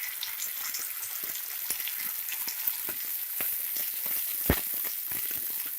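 Ground onion and tomato paste fries in a pan with a continuous crackling sizzle, dotted with small pops and a few louder spatters, steady and close.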